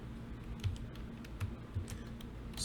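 Quiet typing on a computer keyboard, with a run of soft, irregular keystroke clicks and a few slightly heavier taps, close but faint.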